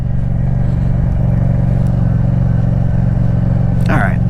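A Yamaha MT-07 motorcycle rides through a quiet neighborhood, its engine running as a loud, steady, close drone with a brief rising whine near the end.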